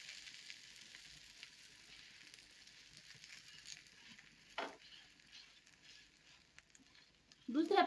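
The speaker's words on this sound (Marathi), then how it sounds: "दुसऱ्या पण बाजूने आपल्याला याला छान असं खरपूस शेकून घ्यायचंय" Bhagar and sabudana dhirde, a pancake, fries in ghee on a pan with a soft, steady sizzle, a brief scrape midway and a louder clatter at the end.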